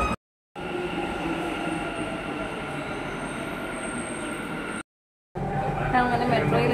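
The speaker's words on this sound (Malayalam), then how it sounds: "5 മിനിറ്റ്സ് കഴിഞ്ഞെങ്കിലേ മെട്രോ എത്തത്തുള്ളൂ." A metro train pulls in with a steady, loud roar and high wheel squeal, heard close from the platform with a short cut midway; no one speaks.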